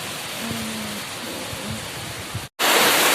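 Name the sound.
heavy rain after a windstorm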